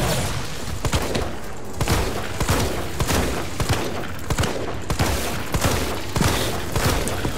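Rapid gunfire from the Resident Evil 3 video game during a fight with Nemesis, with sharp, loud shots repeating steadily across several seconds over a dense, noisy game soundscape.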